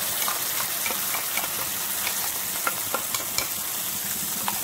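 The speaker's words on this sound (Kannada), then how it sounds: "ಆ ಮಸಾಲೆಯನ್ನು ಈ ಎಣ್ಣೆಗೆ ಹಾಕೊಳ್ಬೇಕು" Spice masala for a Mangalorean tawa fish fry sizzles in hot oil with a steady loud hiss, broken by small pops and occasional stirring scrapes close by.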